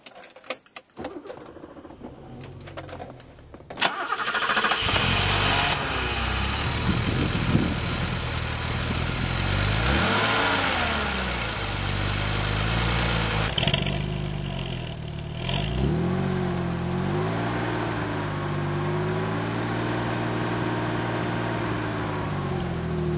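BMW 633 CSi engine cranking and catching after a few sharp clicks, then running loud and close with a high whine and revs rising and falling, settling into a steady idle.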